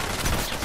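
Submachine gun fire in a video game rattles in a dense, loud, continuous burst, brief and close, with no talk over it.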